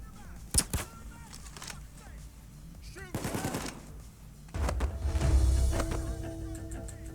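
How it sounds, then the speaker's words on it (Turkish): Gunfire in the Payday 2 video game during a bank robbery: a few sharp shots, then bursts of rapid fire and a louder, heavier stretch of shooting, with game sounds and voices around it. "Arkamdan biri vuruyor beni"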